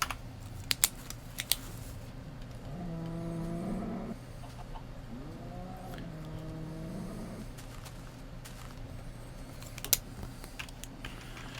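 Soft, irregular computer keyboard typing while notes are written during Minecraft play, faint clicks scattered across the stretch alongside low game ambience and a couple of brief animal-like tones.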